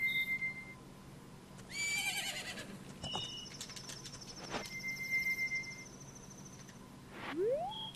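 Horse neighing in the video game Majora's Mask, a rising whinny near the end among game chimes and soft background tones, with no talk.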